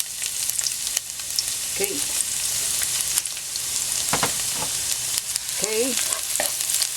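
Garlic sizzles and crackles steadily in hot cooking oil in a pan, a close, continuous frying hiss broken by occasional stirring clinks, while a voice speaks briefly a couple of times.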